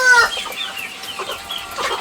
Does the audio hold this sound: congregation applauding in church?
no